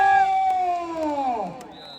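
A crowd cheers and shouts together at a village kabaddi cup match in Punjab, with a rising, falling whoop over steady, fairly loud, continuous crowd noise for about two seconds.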